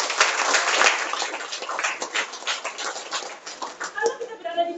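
A room of people at a team presentation claps together in a dense burst that thins into scattered clapping, with a voice talking over it.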